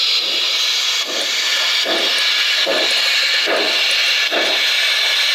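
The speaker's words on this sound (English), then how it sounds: "So we'll turn off function 9 and just use the smoke generator." A Lenz O-scale DB BR 01 model steam locomotive's smoke generator with DCC sound, a loud continuous hiss pulsing in regular chuffs about every 0.8 seconds, alone without talk.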